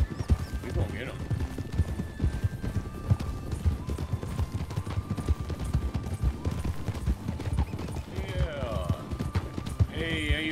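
Horses gallop in quick, repeated clip-clop hoofbeats across open ground, with occasional neighs and whinnies. Voices shout over the pounding hooves.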